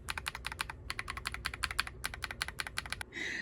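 Rapid, steady typing on a Kiiboom Phantom 68 acrylic mechanical keyboard, close and crisp, with bright clacky keystrokes in a quick even rhythm for about three seconds, then a brief rustle at the end.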